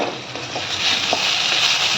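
Potato pieces frying in a pan as they are stirred, a continuous sizzle with scattered soft scrapes and clinks of a utensil against the pan, close and fairly loud.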